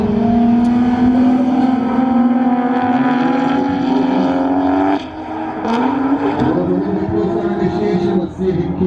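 A high-horsepower drift car with over 600 wheel horsepower revs hard while drifting at a tandem drift event, its engine note climbing loud and steady before dipping and rising again, with announcers talking underneath.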